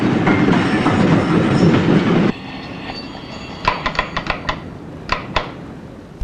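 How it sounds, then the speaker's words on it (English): Trains run loudly over a London railway junction by Borough Market in the 1970s, a heavy rolling roar that cuts off abruptly and gives way to quieter rail noise with a series of sharp wheel clicks over the joints. "During the peak periods on weekdays, nearly 200 trains an hour are passed through this one junction."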